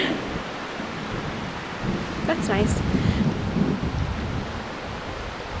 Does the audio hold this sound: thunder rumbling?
yes